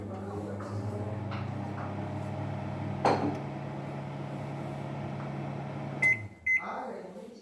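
A Samsung microwave oven hums steadily with a low electrical drone, a clunk midway, then several sharp beeps near the end as the door clicks.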